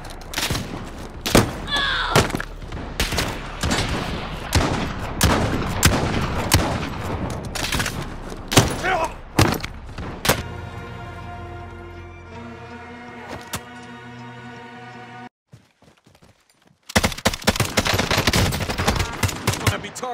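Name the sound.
gunfire from a video game, player taking fire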